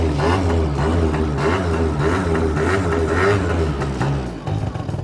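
A motorcycle engine with a slight fault idles roughly, loud and close by, its throbbing pulse slightly uneven and surging a little before settling.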